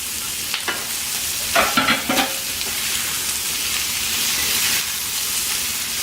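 Meat with red chili sizzles lightly in a pan, a steady close frying hiss with a few brief stirring scrapes near the start and no talk.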